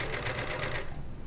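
A serger overlock machine stitches fabric in a quick close burst of rapid, even mechanical whirring and ticking that lasts about a second, with no voice.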